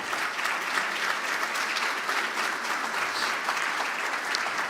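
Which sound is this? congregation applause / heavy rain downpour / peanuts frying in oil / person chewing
congregation applause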